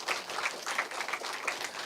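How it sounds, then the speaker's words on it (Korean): Brief, fairly faint applause from children and teenagers at a history lecture in a church, scattered clapping with a few sharper claps standing out. "이때는 박수를 치셔야 됩니다."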